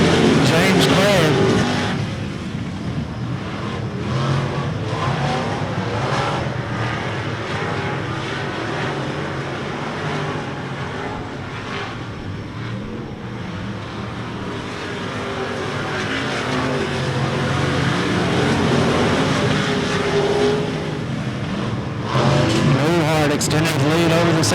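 Race cars roaring around RPM Speedway, engines droning steadily and swelling as cars pass, under continuous excited race commentary.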